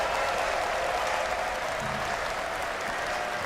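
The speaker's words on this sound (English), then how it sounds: "The crowd is cheering" A large esports crowd at a Dota 2 match in Berlin cheers and applauds in a steady, dense roar that continues without letup.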